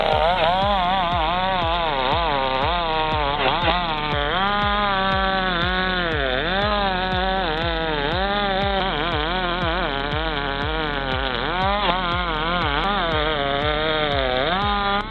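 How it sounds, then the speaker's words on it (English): A Stihl 660 chainsaw felling timber runs loud and close without a break, its engine note wavering and pulsing steadily as the chain cuts through wood. "Between the sound of that steel 660 singing and Ugly Hound watching for widowmakers"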